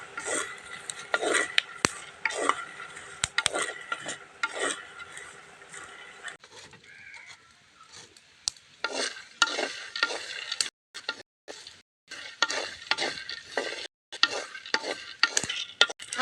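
Groundnuts dry-roast in a pan and are stirred continuously, producing repeated dry scraping and rattling strokes in uneven bursts with short pauses between; no talking.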